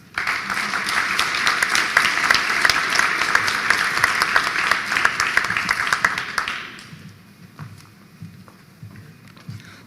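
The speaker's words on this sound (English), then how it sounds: "let's all give him a round of applause" An audience at a university commencement ceremony applauds for a graduate, a dense, loud wash of clapping that lasts about six seconds and then stops abruptly, leaving a quiet room.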